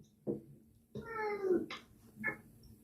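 A cat meows close by, first a short call, then a drawn-out tonal meow followed by two brief ones, heard clearly against a quiet room.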